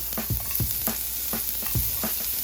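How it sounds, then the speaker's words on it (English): Garlic sizzling in hot olive oil in a pan, ahead of onions for banh mi, a loud continuous crackling hiss punctuated by regular low scraping stirs, about five strokes, close up with no speech. "once your oil has heated up a bit, I'm gonna add some garlic here"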